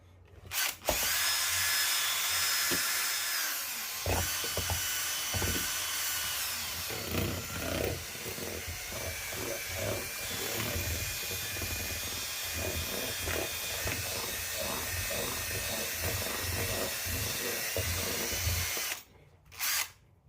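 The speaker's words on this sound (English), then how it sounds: "All I'm going to do is I'm going to whisk them around a bit with my drill." An electric drill fitted with a whisk mashes boiled potatoes in a saucepan, whirring loudly and steadily for about twenty seconds with rhythmic sloshing and scraping knocks, then stopping near the end.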